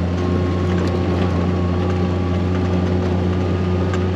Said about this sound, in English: I'm driving up there now.